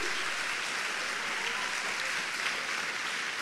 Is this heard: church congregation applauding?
yes